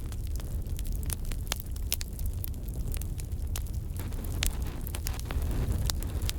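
A campfire of very dry fallen wood in a winter forest crackles steadily and up close, with dense sharp pops and snaps over a low, constant rushing roar.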